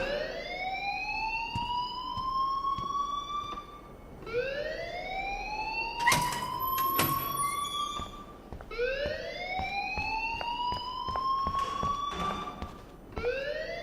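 An alarm in the Life Is Strange video game wails in repeated rising sweeps, each roughly four seconds long, loud and continuous, with a few sharp clicks and thumps mixed in partway through.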